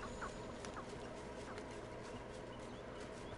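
Chickens in Hogwarts Legacy cluck faintly a couple of times over a steady, noisy game ambience, distant and low in the mix.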